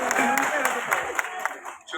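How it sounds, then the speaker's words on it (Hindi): Audience applause at a training program, a brief burst of clapping from a crowd in a room, moderately loud and dense, with a voice speaking over it. "जब भी मैं ट्रेनिंग प्रोग्राम में कोट उतारता हूं लोग ताली क्यों बजाते हैं"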